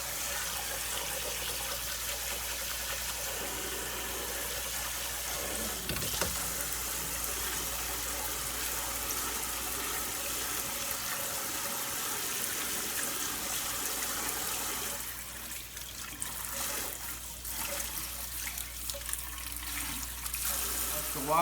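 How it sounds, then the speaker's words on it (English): Green beans rinsed and sloshed around in a bowl of water make a steady, close watery wash that runs throughout, with a few louder splashy stirrings near the end. "I'll slosh them around in the bowl, rinse them"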